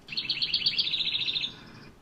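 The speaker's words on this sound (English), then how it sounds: "Wrens are chatty and end with a trill." A small songbird pours out a rapid, chattering run of high notes that ends in a quick trill, clear and fairly close, with no other sounds.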